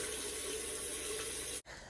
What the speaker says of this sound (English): now we're going to use a washcloth, put some hot water on it.